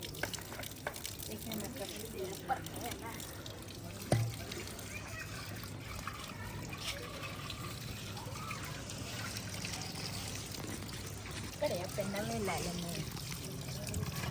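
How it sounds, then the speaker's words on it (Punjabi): Water from the village supply trickles and pours steadily into cans and pots at home, a continuous close running-water sound throughout, with people talking over it. "ਵਾਟਰ ਸਪਲਾਈ ਦਾ ਆਇਆ ਸੀ ਜੀ ਪਾਣੀ ਤੇ ਮੈਂ ਕਿਹਾ ਪਾਣੀ ਭਰ ਲਈ"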